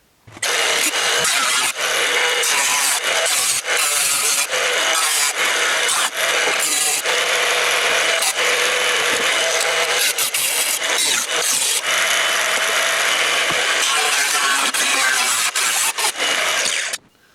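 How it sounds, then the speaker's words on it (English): A power cutting tool grinds and saws through a truck's inner fender sheet metal to make room for 40-inch tires, a loud continuous harsh whine lasting the full stretch with brief dips where the cut pauses. "let's get this inner fender cut and we'll go from there"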